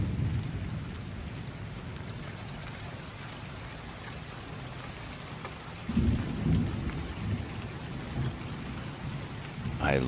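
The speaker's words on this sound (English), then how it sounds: "I love a good thunderstorm." A thunderstorm with steady rain hisses continuously, with a low rumble of thunder swelling midway, moderately loud and enveloping.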